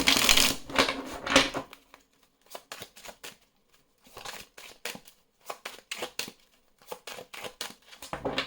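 Oracle cards being shuffled by hand: a dense riffling burst up front, then a pause and a run of short crisp card slaps and flicks, close and fairly quiet, with no voices.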